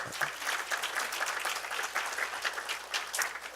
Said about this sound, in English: Can you just give yourself a hand of applause?